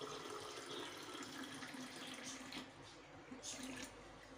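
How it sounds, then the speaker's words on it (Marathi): Plain tap water poured into a 200 ml cup, a steady close liquid rush running throughout with no voices. "त्याच्यात आपण पाणी घेऊया अगोदर"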